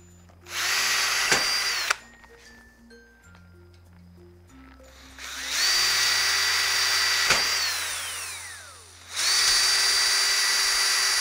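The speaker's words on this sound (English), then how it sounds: "Building up another collection of rivets on the drill bit" A power drill bores out rivets in a PC case in three loud whining bursts, each spinning up and winding down, with quieter pauses and faint handling between them.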